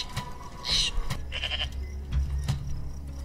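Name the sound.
goat sound from a microwave in a video game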